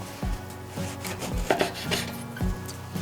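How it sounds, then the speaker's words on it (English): A knife slices thin bread into pieces about three-quarters of an inch thick for lobster crostini, giving several dull chopping thuds against a board in an irregular rhythm, close and moderately loud over faint kitchen hum. "You want to cut each piece probably about 3/4 of an inch."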